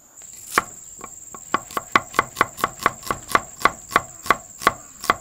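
A knife chops shallots and garlic on a board, a close series of about fifteen crisp evenly spaced knocks that speed up slightly, over a steady background insect-like chirr, with no talking.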